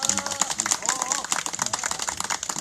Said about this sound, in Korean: 이분들에게 우리 박수 한번 좀 보내주셨습니다.